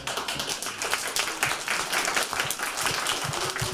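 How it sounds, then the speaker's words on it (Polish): Audience applause at a school art-contest award ceremony: dense, steady clapping from a crowd fills the whole stretch at an even level, with no voices over it. "Jeszcze raz ogromne brawa"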